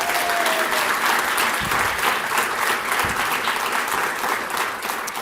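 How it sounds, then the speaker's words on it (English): Steady, dense applause from an awards-ceremony audience, a continuous wash of many hands clapping at even loudness throughout with no speech over it. "just clap right now"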